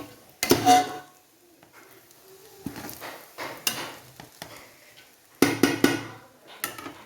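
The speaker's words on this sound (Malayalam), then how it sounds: "നമുക്കൊന്ന് ഇളക്കി നോക്കാം" Ghee rice being stirred in a metal cooking pot: irregular scraping and knocking strokes of a spoon against the pot, some sharper clanks, with quiet pauses between, close by.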